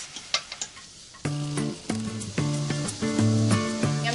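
Lamb meat browning in a pan gives a steady sizzle and frying crackle, with a few sharp clicks early on and a low tonal hum under it from about a second in.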